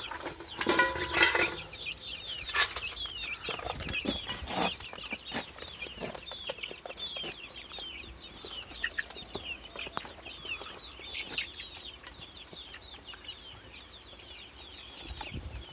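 Chicks peep and cluck busily while pecking at soaked wheat and barley, with scattered sharp pecking taps and brief wing flutters close by.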